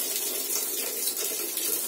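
Water runs steadily into the tank of a Samsung washing machine under repair, a continuous close splashing pour with a hissy, bright character and no voices.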